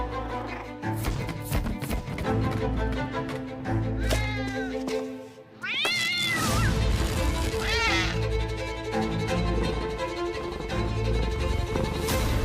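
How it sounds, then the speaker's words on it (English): Several cats meow loudly in a video game trailer with fur effects, a cluster of rising, wavering cries over busy music, the loudest near the middle after a brief drop in the backing. "We got cats."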